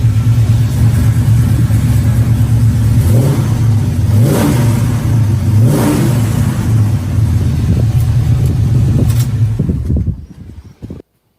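A truck engine idles with a deep, loud rumble and is revved three times, each rise and fall clearly rising above the steady idle, before it cuts off abruptly near the end.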